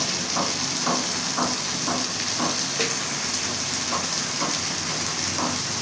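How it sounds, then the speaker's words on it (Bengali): Hilsa fish heads being sautéed with salt in a pan for a curry give a steady, fairly loud sizzle, with regular soft scraping strokes of stirring about every half second throughout. "এভাবে আমি ভালো করে কষিয়ে নেব লবণ দিয়ে দিলাম"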